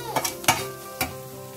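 A tomato ketchup sauce mixture for chicken kondattam sautéing on a low flame in a pan, with a few quick spatula strokes and scrapes over a faint, soft sizzle.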